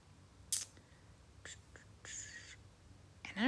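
Pen scratching out numbers by hand in a Hobonichi Cousin paper planner, a few short soft strokes in quick bursts, close and quiet with no talking.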